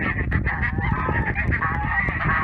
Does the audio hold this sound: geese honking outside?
yes